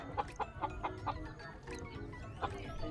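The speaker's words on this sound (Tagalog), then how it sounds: "yung isa nating hen medyo mabait na inayaan ko na lang din magagala so ayun siya" A mild-mannered free-roaming hen among native labuyo chickens clucks in a quick, even series of about five clucks, then adds one more after a pause, close by over steady outdoor background noise.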